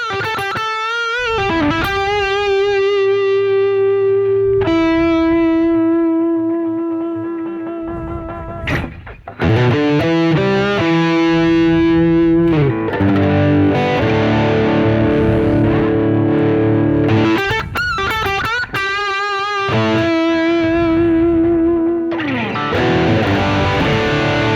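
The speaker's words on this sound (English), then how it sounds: "Now I have the distortion on maximum." An electric guitar plays a smoky rock intro lick with distortion set to maximum, producing loud, sustained, heavily saturated notes and chords in several phrases with brief gaps between them.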